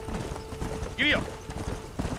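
Horse hooves clip-clop in the western game Red Dead Redemption, a short burst of hoofbeats with a voice heard briefly over them.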